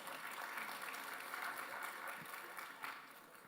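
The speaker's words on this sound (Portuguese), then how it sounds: "Uma salva de palmas" Audience applause fills a university symposium hall, a steady broadband patter of many hands sustained throughout at moderate, slightly distant level with no talk over it.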